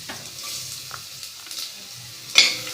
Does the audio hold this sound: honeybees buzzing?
no